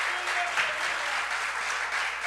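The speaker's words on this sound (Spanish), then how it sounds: "dele fuerte el aplauso al Señor" Congregation clapping loudly for the Lord at a Spanish-language church anniversary service, a dense continuous wash of applause filling the whole short stretch with no clear speech.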